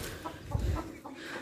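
Chickens on a farm clucking nearby, a few short, throaty clucks in quick succession over a quiet background.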